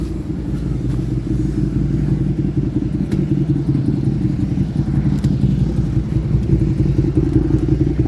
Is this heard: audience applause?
no